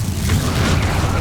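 A single heavy, rumbling Incendio fire-spell blast from Hogwarts Legacy booms loud and close for a brief moment.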